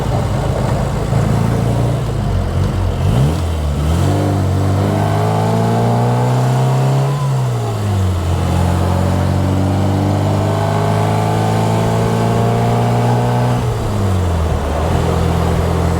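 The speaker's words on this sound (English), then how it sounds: "from a 948 engine we're able to extract a nice bit of grunt out of the engine" A Bugeye Sprite's small 948 engine with twin-tip exhaust idles, then revs up repeatedly with rising and falling pitch, loud and close, its exhaust note throaty and rasping.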